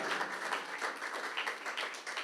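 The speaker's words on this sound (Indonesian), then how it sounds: "Tepuk tangan buat Tuhan Allah kita." A church congregation claps during a sermon, a dense, steady wash of many hands applauding at moderate distance for a couple of seconds with no voices over it.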